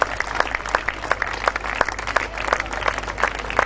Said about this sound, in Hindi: जोरदार तालियों से जल्पा का स्वागत कीजिए